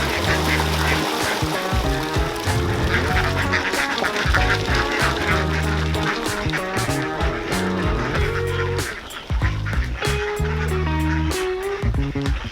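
Ducks and other poultry in an African backyard aviary setting quack loudly and continuously, a dense overlapping chorus of honks and calls close by throughout.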